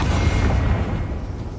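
A Bombarda blasting spell going off in the Hogwarts Legacy video game, a loud, dense, sustained low rumble of explosive impact filling the whole moment with no speech over it.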